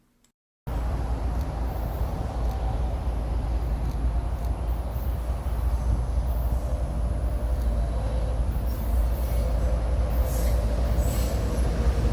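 A CSX freight train rolls along the NO&M rail line on the Gulf Coast near Brookley Siding. A short quiet moment gives way to a loud, steady rumble of wheels and cars passing close by, with faint squeals running over the roar.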